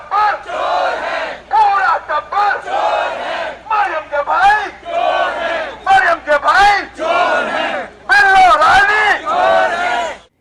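Protesters on a New York street outside the Pakistani consulate loudly chant political slogans in unison, rhythmic shouted phrases repeating in quick bursts close by.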